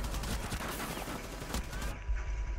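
Gunfire in the video game Rainbow Six Siege: a dense, sustained burst of rapid shots filling the whole moment, loud and close, with a sharper blast near the end.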